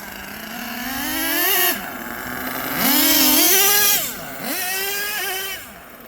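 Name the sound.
HPI Savage XL RC truck with two LRP .32 engines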